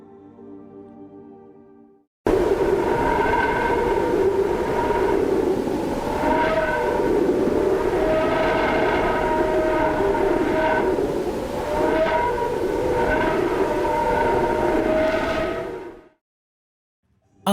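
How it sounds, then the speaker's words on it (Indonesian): Recorded solar wind plasma from the Parker Solar Probe, a steady loud hiss of noise with wavering whistling tones that rise and fall throughout, continuous for about fourteen seconds before cutting off. "Apa yang kalian dengar seperti suara siulan dan noise yang berisik merupakan tekanan dari gelombang panas elektromagnetik dan partikel yang disemburkan oleh matahari."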